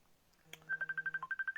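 A telephone rings with an incoming call: a short tone, then a rapid run of about a dozen evenly spaced electronic beeps, fairly quiet and alone with no talking.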